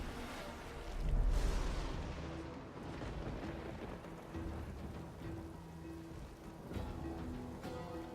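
A dense hiss of rain-like noise from a rain spell in Divinity: Original Sin 2, with rumbling impacts, opening with a heavy boom and continuing as steady pattering at moderate loudness.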